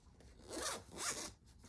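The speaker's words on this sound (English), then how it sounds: "check our zipper out." A zipper on an artist's case pulled in two quick rasping strokes, close and clear, with a short pause between them.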